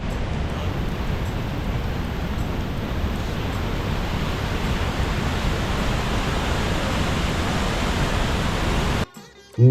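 An underground waterfall in Nepal, water rushing with great force in a loud, dense, unbroken roar close by, cutting off abruptly near the end.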